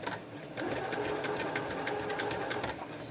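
A sewing machine runs steadily for about three seconds, stitching the three edges of a pocketed bag with a quarter-inch seam allowance, starting after a short pause and close up.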